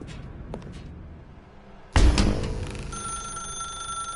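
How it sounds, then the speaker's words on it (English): A telephone in The Stanley Parable video game starts ringing abruptly after a quiet stretch, a loud bright bell ring that keeps sounding with a steady electronic tone. "Now pick up the phone"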